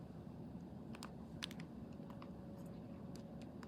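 Faint, scattered clicks of keys being pressed on a calculator to enter a complex-number expression, a few quick taps over a low steady background hum.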